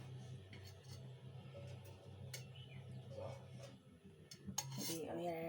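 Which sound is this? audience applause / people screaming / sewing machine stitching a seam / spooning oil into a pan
spooning oil into a pan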